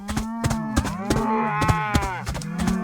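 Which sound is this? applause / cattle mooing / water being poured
cattle mooing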